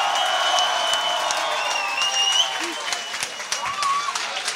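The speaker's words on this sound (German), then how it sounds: "Mach mal bitte nochmal Lärm, die beiden MCs" Crowd cheering and applauding for two MCs at a rap battle event in Vienna, loud dense clapping mixed with whoops and shouts, continuous throughout with some voices audible in the din.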